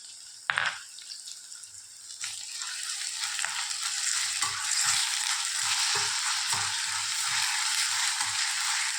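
Ginger garlic paste hits hot coconut oil in a pan for chicken curry, with a sharp initial splash that settles into a steady, dense sizzle and occasional stirring scrapes, close and fairly loud.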